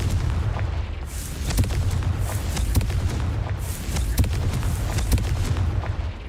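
The Confringo fire blast spell in Hogwarts Legacy goes off repeatedly as booming, crackling bursts with sharp transients over a heavy low rumble, loud and close, several blasts in a row.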